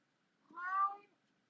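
A female house cat lets out a single drawn-out meow, mid-loud and close, in an otherwise quiet indoor room.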